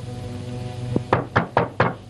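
Four sharp knocks on a wooden door in quick succession, loud and close, set against a low steady background hum.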